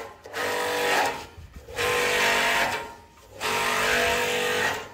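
New electric car wash pump running: a steady whirring mechanical drone that cycles on and off three times, each run lasting about a second and a half with brief quiet gaps between.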